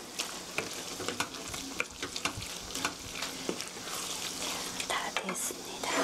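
Fettuccine in a rose sauce is stirred and tossed in a pan, giving soft, irregular scraping and sloshing with a light sizzle underneath, close and fairly quiet, with faint clicks of the utensil against the pan.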